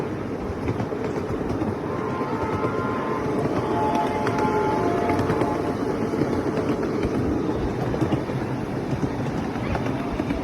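Riding aboard a small passenger train on the Burnaby railway: a steady, continuous rumble and clatter of wheels on track with wind buffeting, close and constant throughout.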